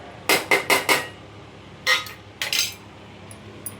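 Metal utensils clink against a pan as egg whites go in for an egg chaat: a quick run of four sharp knocks, then a pause and a few more scattered clinks, close and clear.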